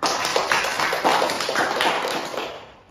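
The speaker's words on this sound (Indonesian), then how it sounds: "Beri tepuk tangan untuk kita semua." A small group in an Indonesian group-therapy session claps hands together for about three seconds, a dense run of close, overlapping claps that fades out at the end.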